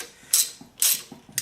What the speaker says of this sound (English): I'm going to come right in here and loosen up this bolt